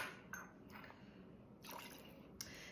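Kentucky bourbon is dumped into a glass in a kitchen, a few faint, brief liquid splashes and drips separated by quiet pauses.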